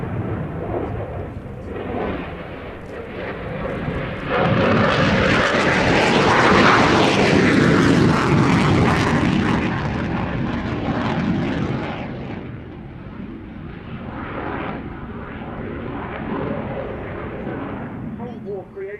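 A Soviet-era MiG-29 jet fighter roars past at an air show, its loud engine noise swelling to a powerful peak mid-pass and then fading slowly as the aircraft moves away.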